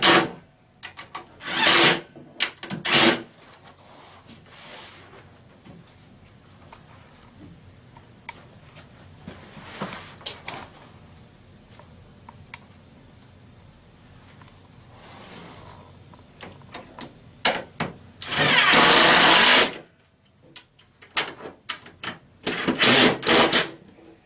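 A Forevermark base cabinet being assembled, with screws driven tight in repeated bursts of a whirring power driver separated by quieter stretches of ticking and handling noise.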